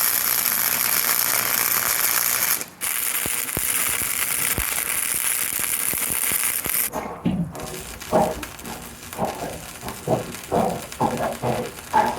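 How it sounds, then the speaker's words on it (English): A steady, crackling hiss of welding fills the first seven seconds as a bracket is welded onto a 6.5hp scooter, followed by irregular metallic clanks and knocks. "Middle of welding this bracket on"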